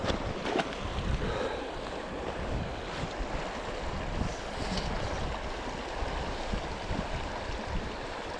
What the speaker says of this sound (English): Damn wind.